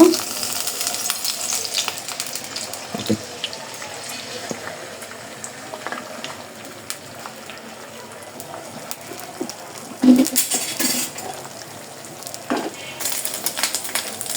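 Eggs mixed with chopped coriander leaves frying in a pan for a North Bengal home-style recipe, a steady low sizzle with occasional stirring clinks and scrapes, fairly close, no talking.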